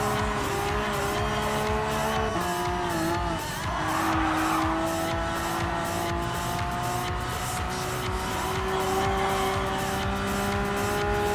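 A Porsche 911 GT3 RS races on the Dragon Trail Seaside circuit in Gran Turismo Sport, its engine droning loudly and steadily throughout, pitch climbing and shifting, with tire squeal and skidding mixed in.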